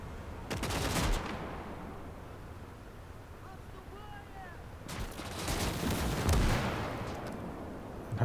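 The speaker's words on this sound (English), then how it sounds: "I'm going to order the artillery to fire on it." Artillery fire in the World War II strategy game Gates of Hell: two bursts of booming, crackling blasts, the first brief and the second longer, separated by a quieter rumbling stretch with faint background noise.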